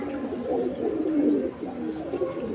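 Collected pigeons cooing nearby, a continuous low rolling coo that swells and fades in repeated phrases over faint background noise.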